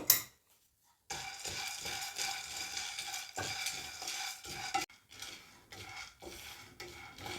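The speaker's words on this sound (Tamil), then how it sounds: "இந்த பொட்டுக்கடலையை ஓரளவு வறுத்து கொள்ளுவோம்" Fried gram dal (pottukadalai) roasted and stirred in a pan, giving dry rattling scrapes in repeated strokes, close and fairly quiet, with short pauses between bursts.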